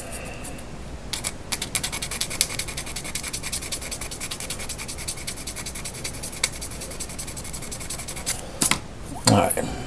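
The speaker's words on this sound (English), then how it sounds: "sand it down" A scratch-built tunnel ram intake is sanded by hand in close, steady rubbing strokes with a gritty, scratchy texture. The strokes run continuously, then a few louder scrapes and knocks come near the end.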